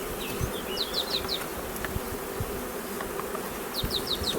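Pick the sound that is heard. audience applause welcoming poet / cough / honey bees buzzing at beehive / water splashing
honey bees buzzing at beehive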